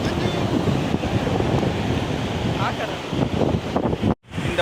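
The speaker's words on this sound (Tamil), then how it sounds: "இந்த பௌர்ணமி டைமில் பீச்சில் அலை இங்கே ஜாஸ்தியாக இருக்கும்னாங்க" Ocean waves break on a beach at full moon, when the surf runs high, with strong wind buffeting the microphone in a steady, loud roar that cuts out briefly near the end.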